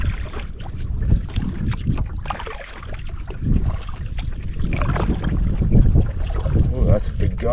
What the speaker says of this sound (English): Oh, that's a big gust actually right there.